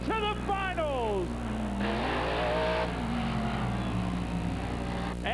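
A monster truck engine roars loudly at a show, revving up and down in rising and falling sweeps, sustained and close, with crowd or announcer noise underneath.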